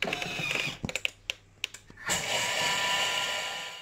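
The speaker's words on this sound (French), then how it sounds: "on va donc mixer 15 secondes à vitesse 5" Lemon tart ingredients including sugar in a food processor, a few clicks and knocks from the lid and controls, then the motor starting up to a steady whir at speed 5.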